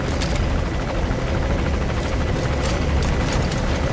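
Helicopter rotor thrum in Metal Gear Solid V: The Phantom Pain, a loud steady roar with low beating and occasional sharp thumps filling the whole clip, no talk.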